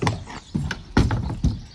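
Hooves thud on a hard surface in a slow, uneven walking rhythm, four or five distinct steps close by.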